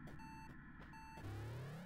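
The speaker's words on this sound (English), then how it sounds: "At least you can get rid of this incessant beeping." Electronic beeping from a save point in the Axiom Verge video game: a few regular, evenly spaced tones that stop and give way to a rising synthetic sweep, no speech.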